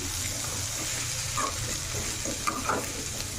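A Bangalore brinjal chutney mixture is stirred in a hot pan, with a steady soft sizzle and a few scraping strokes of the spoon, close and fairly quiet.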